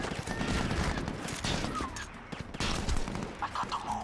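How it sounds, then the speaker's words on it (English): Sniper fire and other gunfire from the SOCOM 4 campaign video game come as a dense, noisy burst of shots and explosions. The battle sits at mid-distance and is fairly loud, with no clear talk over it. "You're getting sniped now, buddy."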